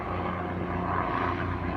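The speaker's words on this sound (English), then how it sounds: "oh, looks like a helicopter up there. So, no, I think it's a small plane." A small propeller plane passing overhead, a steady broadband engine drone that holds level throughout with no talk over it.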